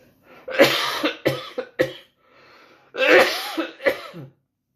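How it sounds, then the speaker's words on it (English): Two bursts of harsh coughing, each a quick cluster of hacks, close and loud, with a short quiet gap between them. "I'm gonna have to cough again."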